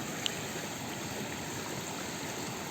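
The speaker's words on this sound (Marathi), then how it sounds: "मित्र आपण अरबी धुवून घेऊया आता" Taro roots (arbi) being rinsed in water outdoors in the Konkan countryside, a steady faint trickle and splash of running water with no talking.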